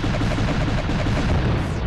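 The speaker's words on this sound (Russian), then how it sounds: "последний выстрел." Gunfire from the video game Dreams Defender rumbles as a dense, heavy barrage of booming shots, loud and continuous with a rapid pulsing rhythm, heard alone without talk.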